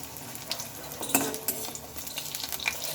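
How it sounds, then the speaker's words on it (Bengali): Lentil fritters (boras) frying in a pan while being flipped, with a steady soft sizzle beneath clinks and scrapes of a utensil against the pan, a few sharper knocks standing out. "বড়াগুলোকে আমি উল্টে পাল্টে ভেজে নেব"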